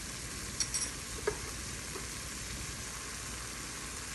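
Spice mix for a Kerala-style watermelon rind pickle sizzles gently in a pan over a low flame while turmeric is stirred in, with a soft steady hiss and a few faint clicks of a spoon near the start.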